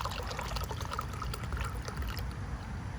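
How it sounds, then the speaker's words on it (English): Fresh coconut water pours from a freshly opened coconut into a cup in a steady, splashy trickle lasting a few seconds, close and fairly loud, with no talking. "I am gonna pour the coconut water into it."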